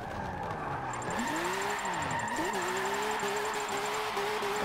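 A BMW race car's engine in Forza 7 revs sharply on a clutch kick during a drift, pitch dipping then surging and holding at a steady loud whine, close and continuous with no talk.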